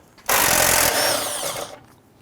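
A power tool loosens and removes 13mm brace bolts on a 2011-2021 Jeep Grand Cherokee during AC condenser work. One loud, close whirring burst lasts about a second and a half, then tapers off.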